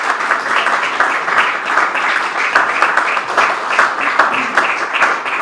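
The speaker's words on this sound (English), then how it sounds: "Round of applause for Caroline." Sustained audience applause at an AI strategy book launch panel, a dense, even wash of many hands clapping that carries steadily for several seconds without talk.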